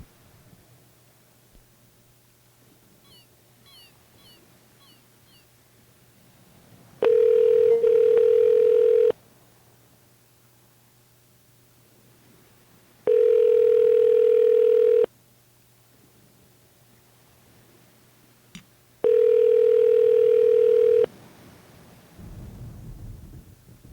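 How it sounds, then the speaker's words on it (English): An outgoing phone call rings three times, each a steady electronic tone lasting about two seconds with long quiet gaps between, heard clearly over a faint low hum. "let's call Fred the producer"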